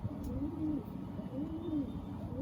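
A short-sized Madras pigeon gives soft, low, rolling coos in a repeated rhythm, close and fairly clear over a little background hiss.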